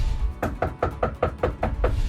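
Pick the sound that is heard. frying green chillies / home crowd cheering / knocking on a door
knocking on a door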